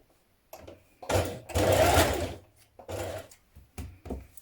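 A sewing machine stitches down the seam allowance on either side of a dungarees band, its motor whirring in several short bursts separated by brief pauses, close and clear with no talking.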